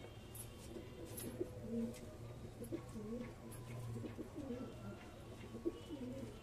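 Pigeons in a breeding loft coo softly and repeatedly in low rolling phrases, fairly close but quiet, with a few faint chirps and a steady background hum.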